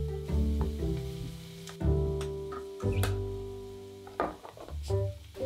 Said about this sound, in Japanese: 玉ねぎを先にオリーブオイルになじませます。 弱火でゆっくり火を通すことでオリーブオイルの風味がしっかり玉ねぎに移ります。